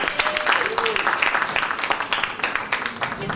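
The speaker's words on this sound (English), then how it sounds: "Give Shania a round of applause." A round of applause for a young speaker at a primary schools' public speaking competition, a full room clapping steadily, with voices audible beneath it.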